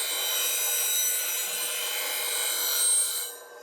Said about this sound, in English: Now, I'm going to grind on this side